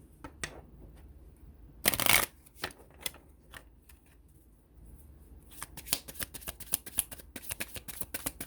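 Tarot cards being shuffled and pulled by hand, quiet crisp riffles and flicks with a loud burst of shuffling early on, then a rapid run of card snaps near the end, no talking.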